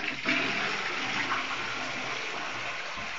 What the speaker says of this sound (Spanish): Bueno, vamos a ver, tírate la cisterna.